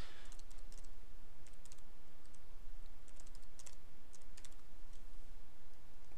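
A password typed on a computer keyboard during a Cisco Security Manager installation: light, irregular key clicks over a steady background hiss.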